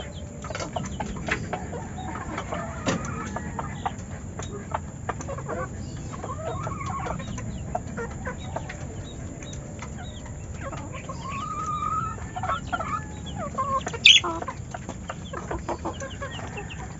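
Red junglefowl hen and rooster clucking and murmuring nearby, a steady stream of short calls with a louder squawk near the end, over faint background noise.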